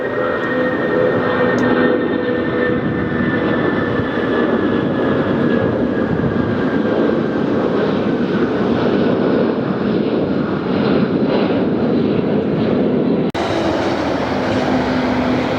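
Jet engines roar steadily and loud throughout, a broad rushing drone with a rising whine, as a large airliner powers down the runway for takeoff at LAX.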